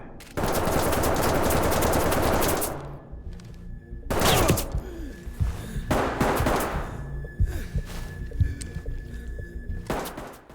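Gunfire in a gunfight in the tactical shooter game Ready or Not: a sustained loud burst of automatic fire, then a heavy blast and further scattered shots and thuds, close and harsh.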